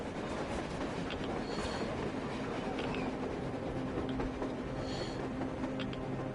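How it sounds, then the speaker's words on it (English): A train rolls past on the surface in the video game Metro Exodus, a steady dense rumble of rail noise with faint metallic squeals, constant and moderately distant throughout. "A train! A damn train on the surface!"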